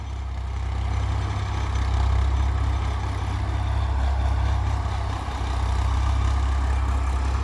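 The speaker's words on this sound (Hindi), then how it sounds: "ये जा रहा है ट्रैक्टर" A modified Ford 3600 tractor with a 48 HP engine runs in a farm field, making a loud, steady low diesel drone that holds close and constant throughout, with no talking.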